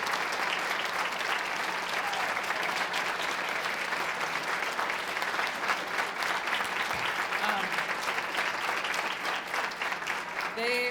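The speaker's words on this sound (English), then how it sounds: "please give a round of applause to our Youth for Change Coalition" A crowd applauds steadily at a community breakfast honoring a youth coalition, a dense, even wash of many hands clapping that carries on for the full stretch without easing.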